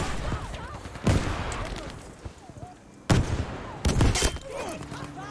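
Gunshots in the shooter game Battlefield V, with several sharp, loud reports cracking out over a dense bed of distant battle noise and gunfire, while voices talk in the background.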